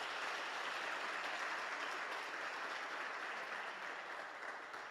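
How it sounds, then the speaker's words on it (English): Sustained audience applause fills a hall at a youth weekend event in the Northern Cape, a dense steady wash of many hands clapping at close range for the full stretch, with no voices rising above it. "So give yourself a big round of applause,"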